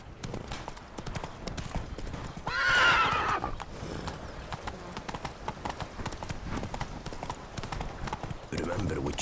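Roach, a horse in The Witcher 3: Blood and Wine, gallops with steady clip-clop hoofbeats and gives a loud whinny partway through, over ambient game sound.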